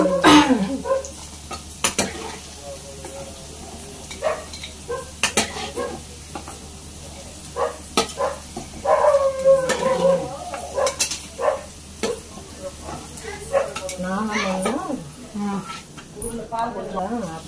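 Onions fry in a pan in a home kitchen, sizzling softly under clattering stirs and the clink of a utensil against the pan. People talk over the cooking throughout.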